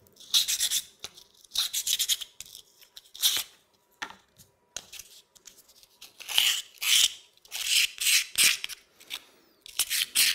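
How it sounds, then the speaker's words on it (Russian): Sandpaper is rubbed against a wooden part of an Ugears model kit, giving bursts of close, dry scratchy rasping strokes separated by short pauses. "Предварительно зачистим наждачной бумагой."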